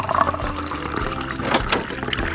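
Water pours steadily into a vessel for tea in a video game, a close, continuous liquid filling sound with faint splashes and a brief louder gush near the end, with no talking.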